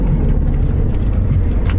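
A car passing close by on a narrow road in Sicily, a steady low engine and tyre rumble that fills the short moment without a clear rise and fall, heard from inside another vehicle.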